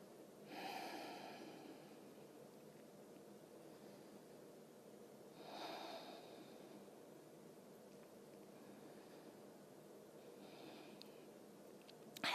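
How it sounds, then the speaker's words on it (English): Deep breathing during a yoga session: a few slow, quiet breaths spaced several seconds apart, each a soft airy rush over faint room noise. "Let's take 3 more breaths here."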